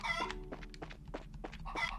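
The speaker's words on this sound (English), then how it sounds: "Come here, chickens!" Chickens cluck in the video game Trails in the Sky SC, a few quick, close, bright clucks and squawks in short bursts with pauses between them.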